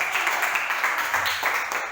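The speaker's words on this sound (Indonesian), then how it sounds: "tepuk tangan untuk kelompok 3" Applause for a presenting group in a classroom lesson, a dense, steady burst of many hands clapping together that holds for a couple of seconds.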